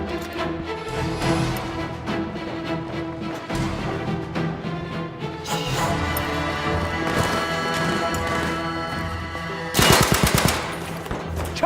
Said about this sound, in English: let you enjoy some gameplay featuring the STEN gun